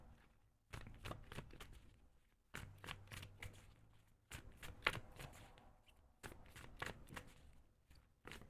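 Tarot cards are shuffled in several quick riffling bursts separated by short pauses, close and fairly soft.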